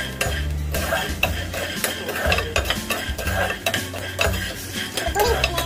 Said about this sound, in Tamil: முதலில் ஒரு கப் வேர்க்கடலை, 5 காஞ்ச மிளகாய் எல்லாத்தையும் நன்றாக ஃப்ரை செய்து கொள்ள வேண்டும்.